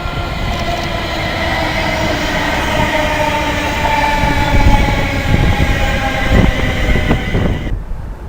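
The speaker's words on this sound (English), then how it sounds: "Just arriving now, the 1425 London Midland service from Birmingham New Street to London Euston" A London Midland class 350 electric train from Birmingham New Street to London Euston arrives at Birmingham International station, passing close and loud with a rumbling, squealing roll and faint wheel clatter.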